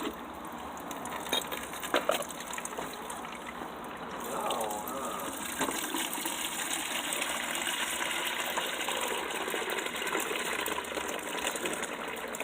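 Tub water gushes and runs steadily through a DIY greywater drain line used to water garden plants, a soft continuous flow that starts partway in, with people talking quietly nearby.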